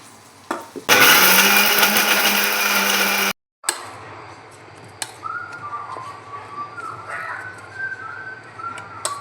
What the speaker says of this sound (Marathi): आणि हे छान मिक्सरला बारीक करून घेऊया आपण.